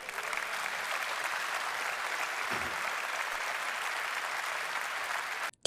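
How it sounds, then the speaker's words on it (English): Large audience applause at a press event with Nigel Farage, a dense, steady roar of clapping sustained at full strength throughout before cutting off abruptly at the very end. "Huge round of applause there."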